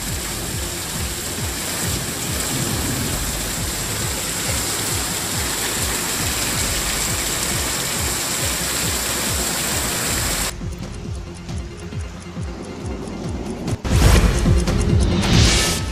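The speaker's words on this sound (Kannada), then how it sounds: "ಆಲಿಕಲ್ಲು ಮಳೆ ಬಿತ್ತು" A hailstorm pours down over a grape-growing area in a dense, steady roar of falling hail and rain, loud throughout with a sudden shift in texture partway through.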